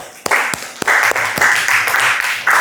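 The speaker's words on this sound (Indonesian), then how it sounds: "beri aplaus untuk Ayatul" Applause for Ayatul in a classroom, starting with a few sharp individual claps that swell into a short burst of group clapping, loud and close, with brief pauses and a final renewed burst.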